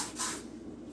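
A short burst of lemon-scented aerosol spray hisses out, loudest at the start and then trailing off into a softer steady hiss.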